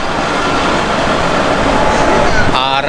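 The 22317 Sealdah–Jammu Tawi Humsafar weekly superfast express makes a loud, steady rumble of rolling rail cars with a faint metallic squeal near the end, heard close up from beside the train.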